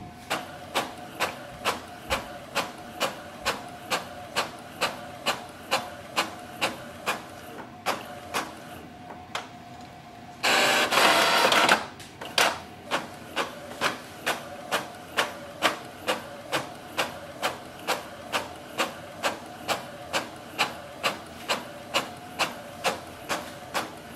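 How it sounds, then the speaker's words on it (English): An Epson EcoTank ET-4850 printer prints double-sided, producing a steady rapid train of mechanical ticks and clacks with a humming feed, broken briefly by a louder grinding whir as the paper is drawn back for the second side. "Print is done. So you can see it has printed on the both side."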